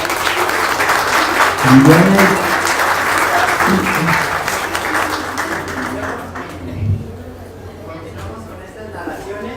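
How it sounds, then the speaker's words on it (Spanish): An audience at a live oral storytelling event applauds the storytellers, with sustained loud clapping under a voice that speaks over it and fades toward the end. "Demos un fuerte aplauso de nuevo,"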